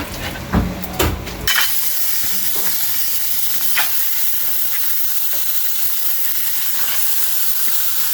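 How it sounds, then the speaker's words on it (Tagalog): Pork hitting a dry wok with no oil sends up a sharp burst of stirring clatter, then a steady, loud, hissing sizzle that carries on alone. "ilalagay na natin yung pork natin"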